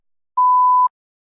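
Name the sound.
test prompt beep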